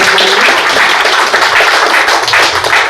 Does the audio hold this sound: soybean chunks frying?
no